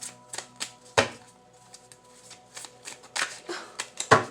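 Playing cards are handled up close: sharp irregular snaps, flicks and slaps of card stock, with quieter shuffling between louder strikes.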